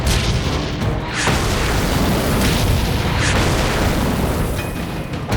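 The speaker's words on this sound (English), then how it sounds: "My gunner traverses left, hits another tank." A tank round strikes another tank and explodes during the Battle of 73 Easting. The blast rolls out as a loud, dense roar of booms and rumbling that continues through the clip with little break.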